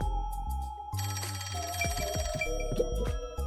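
A telephone rings in the video game Rain Code, a bright electronic bell trilling in repeated bursts, loud and alone.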